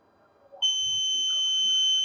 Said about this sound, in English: So there is a text and as well as buzzer alert.